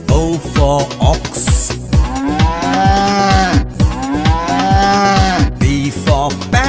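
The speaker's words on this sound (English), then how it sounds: "O for ox." An ox lowing, set amid a children's alphabet song with steady bouncy music and rhythmic percussion; the moo is brief and blends under the loud, continuous tune.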